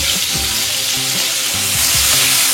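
Raw green mango pieces frying with salt and turmeric in a pan, a loud, dense sizzle running throughout with occasional stirring scrapes underneath, no voices.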